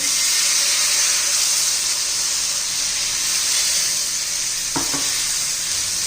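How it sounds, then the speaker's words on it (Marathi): Tomato and rice dosa batter hits an oiled griddle, a loud continuous sizzle and hiss that holds steady close by, with a couple of faint knocks near the end. "मस्त असं तेल लावून घेतलेलं आहे आता त्याच्यावर आपण बॅटर घालून घेऊया"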